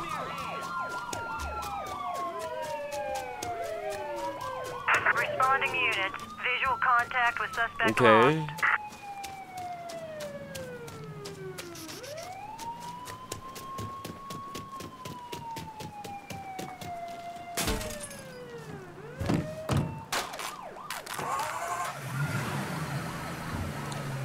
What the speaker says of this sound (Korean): 경찰차가 오고 있어.